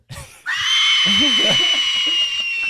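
Film scream from the 2006 thriller When a Stranger Calls: a sustained, piercing high-pitched shriek lasting over two seconds, with a voice speaking or reacting underneath.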